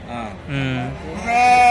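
Sheep bleat at a rural livestock market, a couple of close, wavering cries mixed with a person talking nearby.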